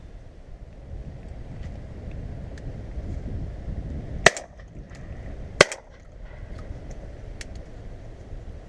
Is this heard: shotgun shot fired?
yes